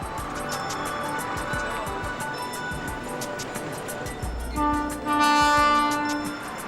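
A train rumbles along steadily with rattling rail noise, then a loud sustained horn blast sounds near the end, close and prominent.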